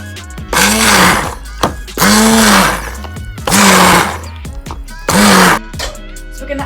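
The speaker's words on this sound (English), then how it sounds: "now we're going to blend it" A kitchen blender whirs in four short loud pulses as it purées courgette, tomatoes and pasta water, with brief gaps of quiet between each burst.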